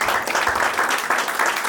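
Steady applause from a live audience at a shayari poetry show, dense and continuous clapping throughout without a break.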